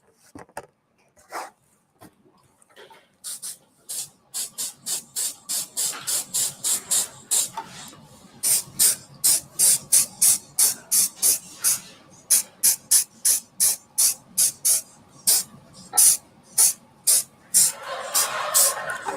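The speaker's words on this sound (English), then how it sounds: "Just going to spray this off camera so I'm not getting it all over the lenses" Solvent-based red oxide paint is sprayed onto timber in a long series of sharp, rhythmic aerosol bursts, closely spaced and loud, with no talking over them.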